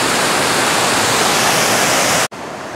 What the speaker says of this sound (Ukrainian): Тут ще один водоспад.